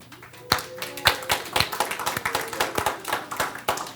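A small audience at a marketing meetup gives scattered, uneven applause: a handful of individual claps and taps, close and fairly distinct rather than a full ovation.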